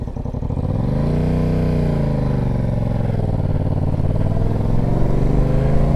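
Yamaha MT-07 motorcycle riding over a rutted, cracked sidewalk: a loud, close engine drone rises as the bike pulls away and then holds a steady rumble, with faint bumping and clatter.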